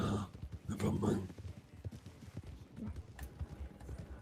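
Horse hooves clip-clop steadily in the Western roleplay game RedM, a mid-distance rhythmic trot running beneath continuous conversation.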